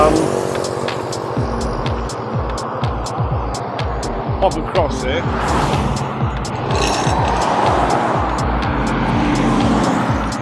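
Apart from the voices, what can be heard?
cars passing by on a road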